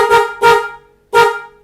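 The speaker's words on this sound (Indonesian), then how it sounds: "Kemudian klakson" Three loud honks from a Honda GL100 motorcycle horn, two quick blasts close together followed by a third after a short pause.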